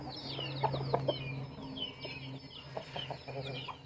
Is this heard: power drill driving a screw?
no